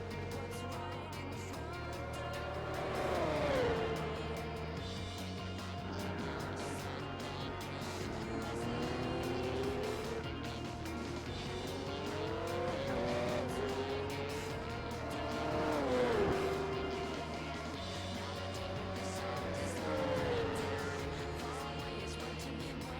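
A Mazda 787B race car engine in Gran Turismo 4 screams steadily at high revs, rising and falling through repeated gear changes and accelerations as the car races on, loud and continuous.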